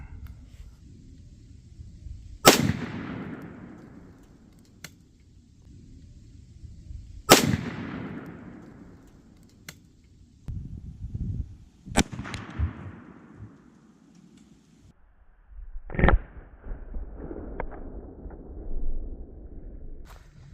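Shotgun slugs from a .410, a 20 gauge and a 12 gauge fired outdoors at bowling balls near a stump: three loud, sharp reports spaced a few seconds apart, each trailing off in echo, then a fainter crack and thuds of impact.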